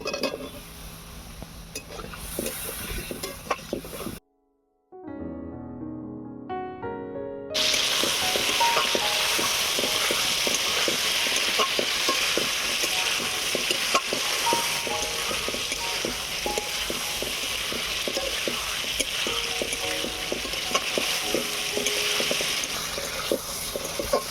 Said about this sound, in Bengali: আলু ভালো করে কষানো হয়ে গিয়েছে